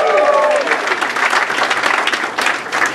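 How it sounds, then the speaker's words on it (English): Loud, enthusiastic audience applause at a magic show in the Magic Castle, cheering the featured entertainers; dense clapping fills the whole stretch, with a voice briefly audible at the start. "please let's have a nice big round of applause for your featured entertainers"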